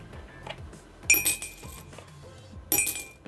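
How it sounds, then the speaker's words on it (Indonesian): Two coins dropped one at a time into a glass, each landing as a bright, ringing clink with a brief rattle, spaced about a second and a half apart, close and clear against a quiet room. "gue hanya memiliki 2 buah koin yang akan gue pindahkan satu persatu ke dalam gelas"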